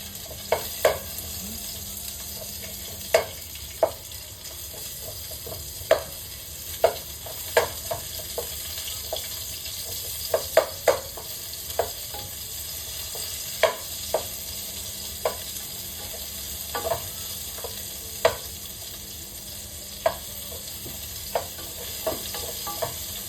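Onion sizzles steadily in a pan for chicken feet adobo, a soft continuous frying hiss broken by frequent sharp clicks and scrapes of stirring, no voices.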